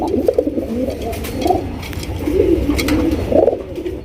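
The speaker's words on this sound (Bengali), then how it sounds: "একদম বিগ সাইজের গোল্লা কবুতর সুন্দরী গোল্লা" Big-sized Gola pigeons cooing at a pigeon farm, a loud, close, continuous chorus of low throaty coos overlapping each other without a break.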